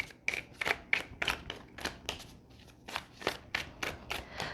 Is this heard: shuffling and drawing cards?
yes